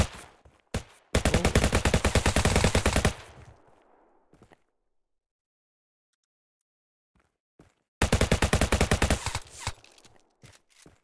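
Automatic gunfire in the video game Ascend The End: a loud sustained burst of rapid shots lasting about two seconds, then a quiet gap, then a second rapid burst near the end.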